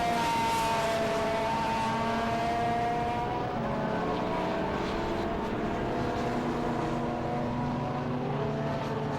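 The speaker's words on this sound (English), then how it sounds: "Rick Wood heading for victory in his Aussie supercar" An Aussie supercar in a Thunder Saloons race on its last lap, a loud sustained engine roar whose pitch slides and shifts gear steadily, with no pauses and no voices.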